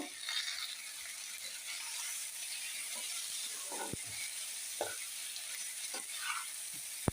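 Vegetables with turmeric powder frying on a tawa, a steady sizzle with scraping stir strokes and occasional utensil clicks, close and continuous without any voices.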